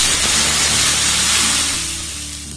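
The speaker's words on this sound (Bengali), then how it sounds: "এবার এর মধ্যে আমি সামান্য পরিমাণে জল ছিটিয়ে দেব।" Water sprinkled onto a hot oiled pan while making pitha with semolina batter, bursting into a loud, broad steamy hiss that gradually fades.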